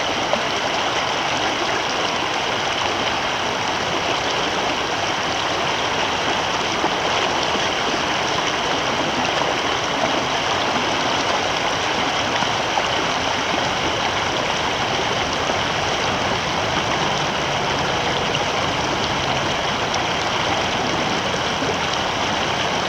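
A river stretch flowing steadily near Dotsero, Colorado on the Eagle River, a continuous broadband rush of moving water that stays even and fairly loud throughout with no voices.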